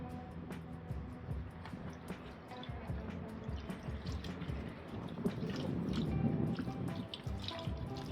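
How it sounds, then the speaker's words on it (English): Water splashing and trickling as a bucket is tipped out outdoors, a steady pour and drip that swells louder toward the end. "so let's empty this bucket out"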